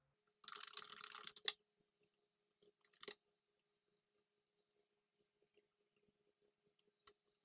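A quick flurry of keyboard typing, then a couple of short isolated clicks, faint and close in an otherwise quiet room.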